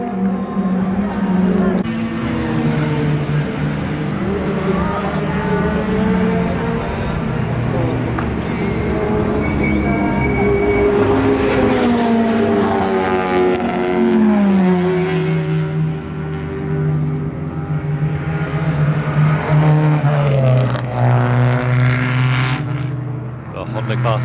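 Honda-class time attack race cars, Fit and CR-Z models, lap Central Circuit. Several loud engines rise and fall in pitch as they accelerate and pass, with continuous engine roar and voices talking over it throughout.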